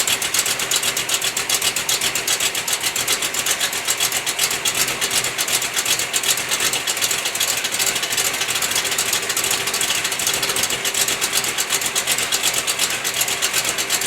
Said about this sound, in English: The sound of an engine with a large valve duration, where the valves are open a long time, the sound of that on an engine and the overlap of those two valves